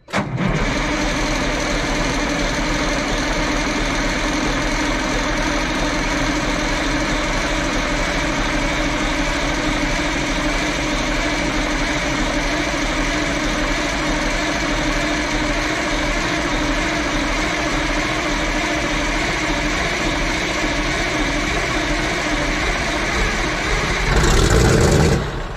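Diesel engine of an abandoned Clark wheel loader starting on a frosty morning, then running steadily with a loud, constant rumble and clatter for about 25 seconds before a brief surge near the end.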